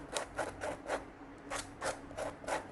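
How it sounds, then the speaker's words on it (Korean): Sandpaper rubbing back and forth over a cut leather edge, a dry rasping scrape repeated in steady strokes about twice a second, close and fairly soft, with no voices. "매끈해질 때까지, 걸리는 부분 없을 때까지 사포질 한 번 더 하고요."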